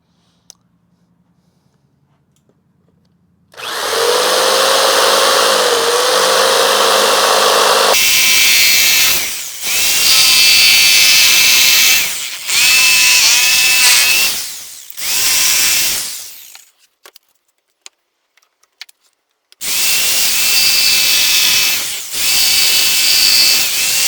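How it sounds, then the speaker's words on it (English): A jigsaw cuts slots into plywood braced by clamped 2x4s, running loud and close in several long bursts with brief pauses between cuts, the motor pitch dipping under load. "we're going to cut the slots out with the jigsaw"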